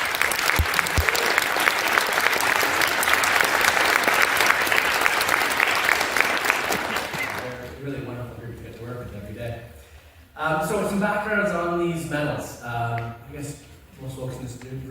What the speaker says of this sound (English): Can we give these folks a round of applause?